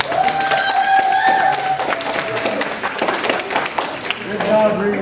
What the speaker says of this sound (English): Give them a better round of applause.